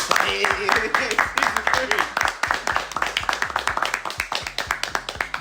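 A small podcast studio group claps together for the start of season three, with dense rapid hand claps running throughout under lively voices and talk.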